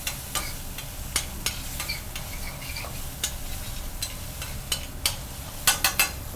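Broccoli rabe stirred through a hot pan, a continuous close sizzle broken by repeated scraping and clicking strokes of a utensil, busier near the end, no talking.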